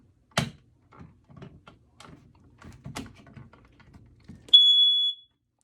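A household smoke alarm gives a loud, shrill, steady beep lasting under a second during a test, following quiet tapping and handling noises.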